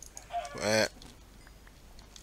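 A single short, close chicken cluck in Minecraft, a brief bright squawk sounding alone over quiet background noise with faint ticks.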